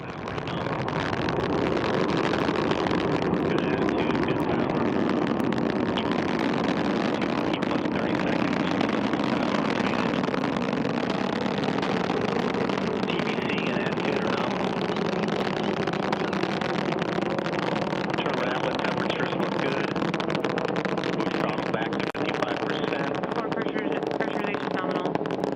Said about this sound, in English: Got engines at full power.